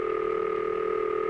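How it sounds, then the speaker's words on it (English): A telephone ringing signal heard on the line after dialing a number on a rotary finger-stop dial, a steady buzzing burr tone sustained evenly for the whole stretch with no break. "That's the ringing signal, an interrupted burring sound."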